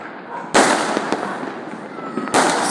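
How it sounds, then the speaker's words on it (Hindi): Sky shot fireworks burst during an outdoor Diwali celebration, with two loud, sharp cracks a couple of seconds apart. Crackling and rumbling fill the gap between them. "स्काई शॉट्स बोलते हैं शायद इसको।"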